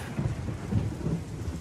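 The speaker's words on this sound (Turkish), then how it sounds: "Yağmur yağıyor şehre." Steady rain falling over a city with rolling thunder, a dense wash of rainfall and low rumbles swelling and fading throughout, no voices.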